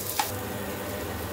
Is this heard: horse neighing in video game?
no